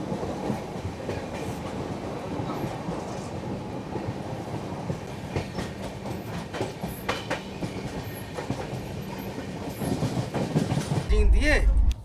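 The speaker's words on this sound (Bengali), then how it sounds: "এই সাইডাং এক্সপ্রেস ট্রেনটি কিন্তু বেশ ভালোই যাচ্ছে।" The Kolkata–Sairang Express, train 13125, runs along the track, heard from inside as a continuous rumbling roll with rhythmic wheel clatter that swells louder and heavier near the end.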